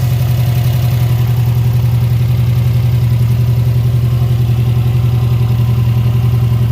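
A Subaru engine idles steadily after its stuck-open fuel pressure regulator has been replaced, a loud, close, even low hum with a constant rapid pulse and no break.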